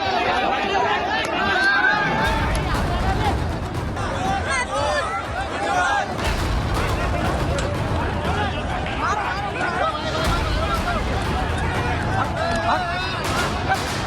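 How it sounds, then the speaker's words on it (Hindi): Crowd stampede at an Owaisi AIMIM political rally: a loud, chaotic mass of shouting voices and scuffling movement, continuous and dense throughout, with a reporter's voice talking over the commotion. "उनकी रैली में भारी भगदड़ मच गई"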